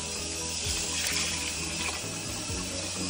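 Cold water from a kitchen tap pouring steadily into a pot for cooking rice, a continuous broadband rush at close range with faint clinks of the pot underneath, no talking.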